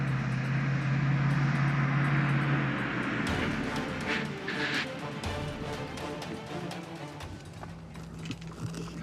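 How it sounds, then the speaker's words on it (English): A truck rumbles at a distance, a low steady drone under broad outdoor noise, with occasional clicks and shifts as it passes. "a truck is heard in the distance"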